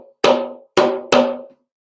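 An African drum signal or break: three loud, close, ringing hand-drum strikes in a quick rhythm, the last two close together, each decaying cleanly into silence.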